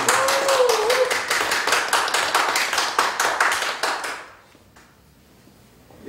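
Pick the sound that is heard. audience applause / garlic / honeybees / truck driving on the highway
audience applause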